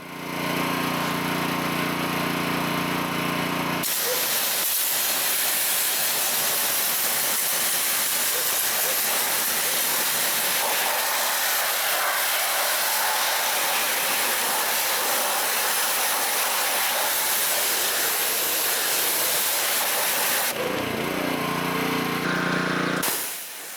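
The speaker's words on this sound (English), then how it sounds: "I'll pre-rinse the vehicle looking to remove as much loose matter as possible." A pressure washer blasts water over a vehicle during a pre-rinse after cleaning the tires, a loud continuous hissing spray running for most of the stretch, with engine rumble before and after.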